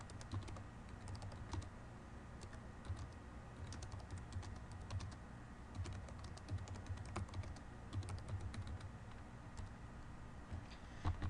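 Steady typing on a computer keyboard while writing a narrative in a self-service portal, with soft, rapid key clicks that run continuously and faintly over a constant low hum.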